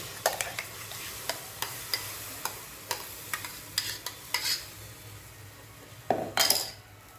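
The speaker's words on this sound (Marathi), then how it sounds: "आता हा आंब्याचा पल कढईमध्ये टाकायचं आहे" A spoon scrapes and taps repeatedly against a kadai as mango pulp is stirred in a steady rhythm, ending with a louder scraping clatter.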